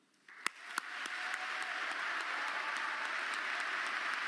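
Audience applause at an award ceremony, starting with a few sharp individual claps and quickly swelling into steady, sustained clapping from a room full of people, moderately distant.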